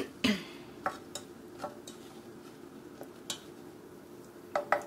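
A spoon scrapes and clinks against a pan of amber sugar-free toffee in scattered, quiet strokes, with soft sticky stirring sounds between the taps.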